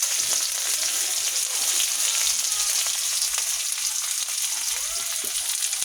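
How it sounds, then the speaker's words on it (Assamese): Onions frying in hot oil in a wok: a steady, dense sizzle with faint crackles running throughout, close and loud, with no voices. "গৰম হৈ গ'ল, পিঁয়াজখিনি দি দিলোঁ।"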